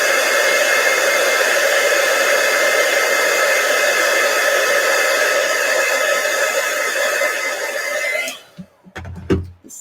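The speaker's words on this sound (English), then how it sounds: "now, my friends, let me dry it" A hair dryer blows on a fabric image transfer in a loud, steady, close whoosh for about eight seconds. It then switches off and a few faint handling clicks follow.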